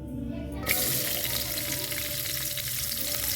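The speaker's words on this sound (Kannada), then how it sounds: "ಎಣ್ಣೆ ಕಾದ ಬಳಿಕ ಸಾಸಿವೆಯನ್ನು ಹಾಕಿ" Mustard seeds hit hot oil in a pan while fenugreek-leaf palya is being made, setting off a sudden, loud, dense crackling sizzle that continues steadily and close by without any talking.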